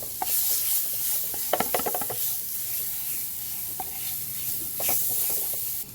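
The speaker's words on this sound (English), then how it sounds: "we're just going to add a little bit of veggies along with some of my green seasoning" Vegetables and green seasoning being stirred into a flour and butter roux in a pan: a soft, steady sizzle with scattered clicks and scrapes of the spoon, close and with no voices.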